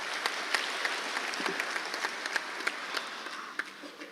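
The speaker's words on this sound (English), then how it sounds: "it deserves your applause once again." Scattered applause from an audience at the 16th edition of the MEDays forum in Morocco, fairly quiet and sparse, with distinct individual claps popping out over a soft wash of clapping.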